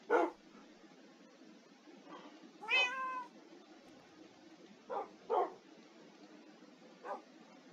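Cat meowing in the Minecraft video game: several short mews spaced apart over a few seconds, one longer and warbling, fairly close and clear, with no talk.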